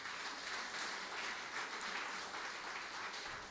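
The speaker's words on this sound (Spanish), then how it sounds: "denle un fuerte aplauso a nuestro Dios" A church congregation applauds during a worship service, a soft, even patter of many hands that holds steady and sounds somewhat distant.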